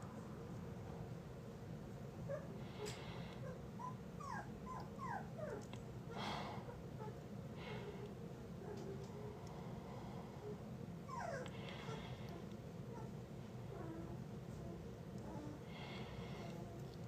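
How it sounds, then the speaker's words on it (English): Sleepy puppies in a bedroom give soft whimpers, yips and snorts in scattered short bursts, faint and close over a low background hum with no talk. "The puppies are sleepy. Can you hear them? Making their cute little puppy noises."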